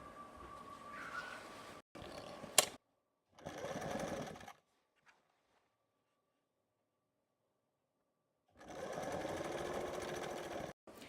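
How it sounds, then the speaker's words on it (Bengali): A sewing machine stitches a half-inch folded hem on an umbrella-cut sleeve in three close, steady whirring bursts, with a short click and a long quiet pause between them. "বাইটল কইরা একবারে এন্ড বাজুরে হাফ ইঞ্চি ফল্ট দিয়ে একটা সেলাই দিমু"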